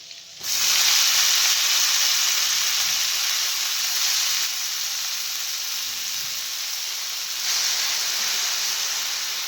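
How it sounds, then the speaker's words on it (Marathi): Vegetables hit a hot pan of oil already holding cumin seeds and garlic, giving a loud, steady sizzle and hiss that runs without a break for the whole stretch, with no voices over it. "आता टाकते भाजी."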